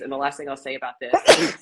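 A single sneeze bursts out near the end, right after a woman's calm spoken remark during a dating Q&A session.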